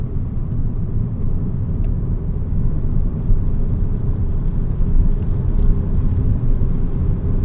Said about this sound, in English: the engine just has like the slightest hum.